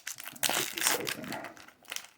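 A Walmart Pokemon card pack's foil wrapper is torn and crinkled open up close, a burst of sharp crackling and tearing that settles into lighter rustles and a final crinkle.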